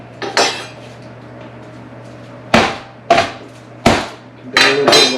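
Garlic cloves smashed against a cutting board during pork tenderloin prep: five sharp, loud whacks, one early and then four spaced over the last few seconds, each with a brief clattering ring, against a quiet kitchen hum.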